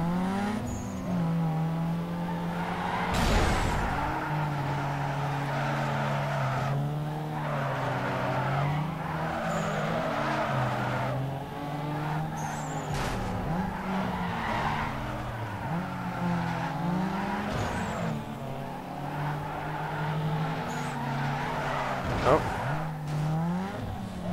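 Race cars in Need For Speed Underground 2, including a Supra, a 3000 GT and an Infiniti G35, roar and rev steadily while tires squeal repeatedly through drifts. Players talk over the engines at times.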